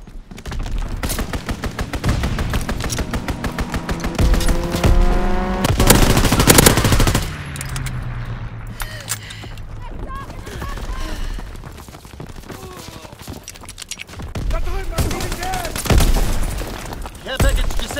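Rapid bursts of automatic gunfire and booming explosions from a strafing run in Call of Duty: WWII online multiplayer, loud and close, rattling in long strings with pauses, while game voice callouts speak over the battle.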